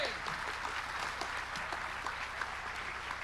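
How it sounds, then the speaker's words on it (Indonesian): An audience applauds steadily at a student orientation session on national insight, dense clapping sustained throughout at moderate distance with faint voices underneath. "Tepuk tangan lagi."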